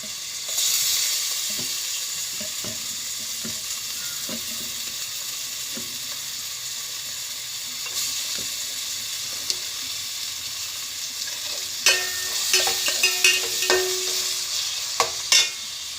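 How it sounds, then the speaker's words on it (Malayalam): Tomatoes dropped onto browned onions sizzle steadily in a hot pan while a river fish curry masala cooks, with soft stirring scrapes throughout and sharper clicks of the utensil near the end. "ഉള്ളി ഇച്ചിരി ബ്രൗൺ കളറായി വന്നപ്പോൾ നമുക്ക് തക്കാളി ഇട്ട് കൊടുക്കുക."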